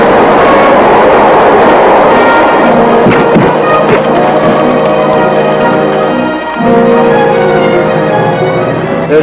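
A train runs on its rails with a steady, loud rumble and clatter, metallic ringing tones rising over the rolling noise, continuous and close throughout.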